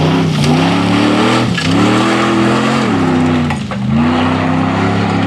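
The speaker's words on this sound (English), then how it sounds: "that doesn't sound like an LS taking it too easy" An off-road race car with an LS V8 engine runs at full throttle on a rally stage, its loud, steady engine roar holding high with brief dips as it shifts or lifts, close by and with no talk.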